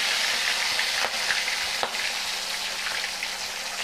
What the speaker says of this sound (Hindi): अब हमने इसके अंदर ऐड करना है जो हमने फिश फ्राई करने के लिए रखी है मैरिनेट करके